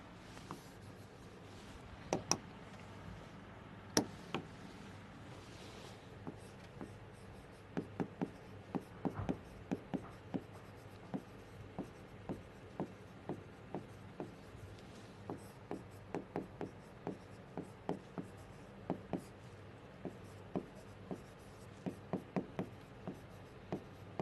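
A pen scratches and taps on paper while notes are written during a physics lecture, soft rubbing strokes with frequent sharp little clicks spread unevenly over a quiet background.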